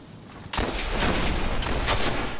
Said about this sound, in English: This guy's still shooting at me.